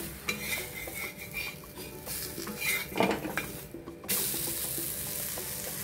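A mixed dal dhirde, a lentil pancake, is flipped on an oiled griddle, with soft sizzling, scraping and clinking of a spatula against the pan. The sounds are quiet and close, with no talk.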